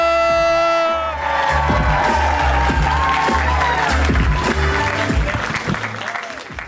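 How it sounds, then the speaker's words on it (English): Audience at a comedy showcase bursts into loud, sustained applause with cheering and whoops, filling the room after a brief opening tone, and the clapping thins slightly toward the end. "keep that round of applause going for your second act"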